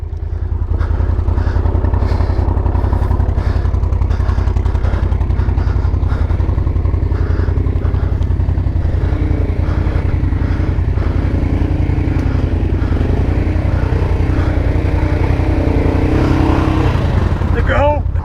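Four-wheeler ATVs working along a Vermont trail, a loud continuous engine drone with revving and clatter throughout, and people talking over it near the end.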